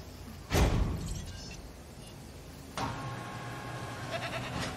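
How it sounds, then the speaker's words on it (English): A goat bleats in the dinosaur park game Jurassic World Evolution, two loud bleating calls separated by a pause, with game ambience underneath and no talk. "We hear the goat."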